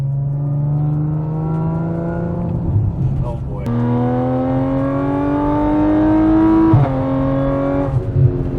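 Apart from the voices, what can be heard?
Stage 2 Audi SQ5 with exhaust mods accelerating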